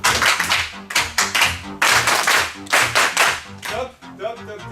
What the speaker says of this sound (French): Applaudissez après moi